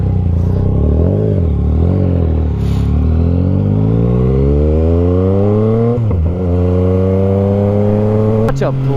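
Yamaha XSR900 motorcycle on a test ride, its engine loud and close as it pulls hard through the gears, revs climbing steadily and dropping briefly at each shift.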